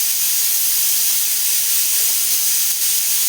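Steam hisses steadily from a kitchen pressure cooker's whistle while upma cooks, a loud, unbroken rush of air that runs the whole moment with no talk over it.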